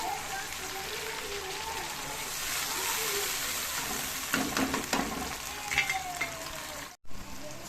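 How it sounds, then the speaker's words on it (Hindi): Water poured into a pan of tomatoes and masala sets off a loud, continuous hissing sizzle close by, with scraping stir sounds partway through and a brief cut near the end. "ये थोड़ा टमाटरों को और मिसाले को टेंडर करने के लिए मैं पानी थोड़ा डाल रहा हूँ"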